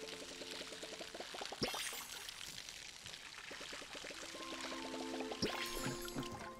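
Water pours from a watering can onto crops in the farming game Palia, a soft trickling stream with rhythmic clicking interface tones and a couple of brief louder splashes, fairly quiet throughout.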